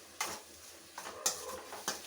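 Vatha kuzhambu ingredients stirred in a pan, four quiet scraping strokes of a spoon against metal spaced unevenly over a faint background, no voices.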